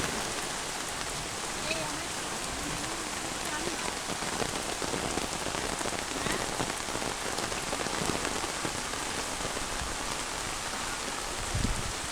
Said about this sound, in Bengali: বৃষ্টিতে উঠোনে পানি হয়ে গেছে দেখো টাকনি পর্যন্ত